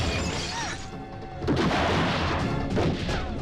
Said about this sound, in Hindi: यहाँ चारों तरफ गोलियां चल रही हैं